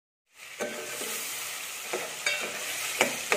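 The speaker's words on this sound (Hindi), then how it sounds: "तो अब हम इसे अच्छी तरीके से भून लेंगे।" Potatoes and spices stirred and fried in a pan for aloo ki qatli, a steady close sizzle with repeated scraping stirs of a spatula knocking against the pan, no talking.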